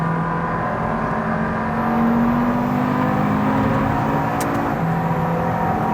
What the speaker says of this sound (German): Der 5-Zylinder ist so ein geiler Motor einfach.